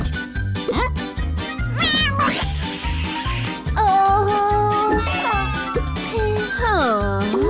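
A frightened cartoon kitten meows in rising, wavering cries over steady rhythmic background music, with several clear calls spread through the passage.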